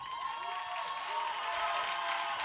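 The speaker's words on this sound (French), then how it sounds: "applaudissements pour Arnaud" Studio audience at a French talent show semi-final applauding a contestant, a dense steady wash of clapping with some crowd noise, bright and continuous throughout without any break.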